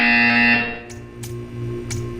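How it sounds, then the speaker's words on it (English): A harsh electronic buzzer sounds in the Portal 2 video game, a loud distorted tone fading out, then followed by short bright bursts. "You will hear a buzzer."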